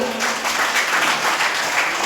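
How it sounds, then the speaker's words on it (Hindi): A crowd at a party gathering in Janakpur claps steadily for a speaker, a dense, even wash of applause that holds at full loudness for about two seconds with no talk over it. "तो ओइ सर के लागि एक जोरदार ताली"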